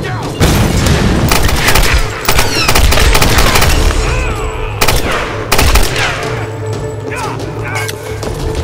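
Bursts of rapid submachine gun fire ring out in Tomb Raider gameplay, loud and close, with booming shots and a player's voice speaking over the action.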